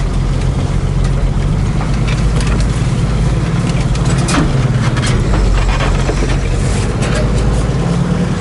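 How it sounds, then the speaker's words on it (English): Nissan diesel engine in a 1976 International Scout II Terra revving hard, a loud, steady, rough drone up close with little variation in pitch and no clear talking. "you can rev it pretty hard"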